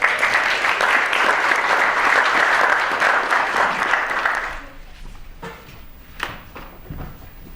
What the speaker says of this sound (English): a round of applause for Paul